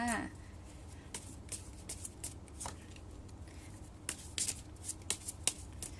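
A deck of tarot cards being shuffled by hand in a quiet room, giving soft repeated riffles and sharp card flicks at irregular intervals, fairly close and moderately quiet, with no talk.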